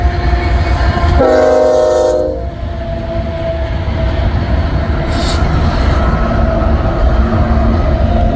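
A westbound double-stack freight train approaches Missouri Valley, Iowa, from Fremont, sounding a loud horn blast early on, then a steady rumbling roll of cars with a fainter horn later, heard from trackside in snowy conditions.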